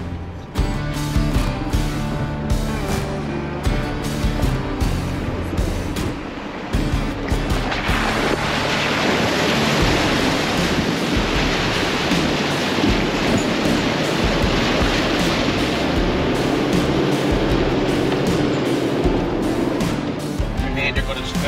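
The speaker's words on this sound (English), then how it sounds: "We've got a creek crossing, The first one. and I don't know about it, so I'm just going to go into full drive." A four-wheel-drive vehicle ploughs through a creek crossing on the Gibb River Road in the Kimberley, producing a steady roar of splashing water, engine and wind noise that builds and continues throughout with loud broadband rush.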